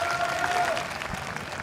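Hometown fans in an arena crowd applaud and cheer for DRX at a Valorant championship match against Fnatic, a steady wash of clapping and crowd noise throughout.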